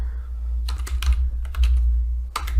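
Someone types on a computer keyboard with several quick clusters of light key clicks over a steady low hum, no talking.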